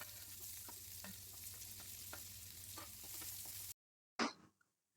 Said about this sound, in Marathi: पॅन मध्ये तेल घेऊ. त्यामध्ये जिरे, मोहरी आणि कांदा घालून चांगलं परतवून घेऊ